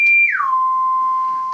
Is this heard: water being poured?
no